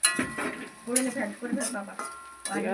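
Onions frying with spices in a pan for a Bengali potato curry, a soft sizzle beneath repeated scraping and clinking of a spoon against the pot, with no voices.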